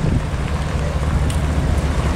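Steady wind roars continuously across an outdoor microphone on a blustery October day, broadband rumble and buffeting with no speech, during a chase of Union Pacific steam locomotive 4014 between Afton and Yermo.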